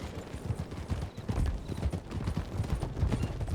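Horse hooves clip-clop steadily and fairly loud on the ground in the video game Red Dead Redemption 2 on the WildRP server, with a continuous even rhythm and no talking.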